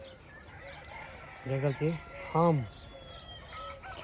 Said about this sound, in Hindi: देखे तो मुर्गी सब पूरा लोकल मुर्गी सब है ये कोक कर देखे मिला